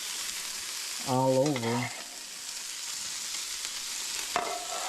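Vegetables frying in a skillet give a steady soft sizzle under brief speech, with a short clatter partway through as they are stirred.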